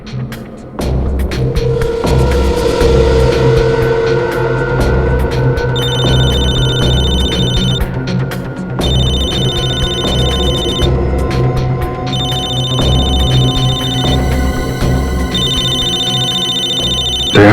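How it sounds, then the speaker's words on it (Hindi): A mobile phone rings in repeated electronic bursts of trilling tone over a droning background score, loud and close, with the rings recurring in regular spaced bouts. "दया इसके मोबाइल पे क्यों फोन कर रहा है?"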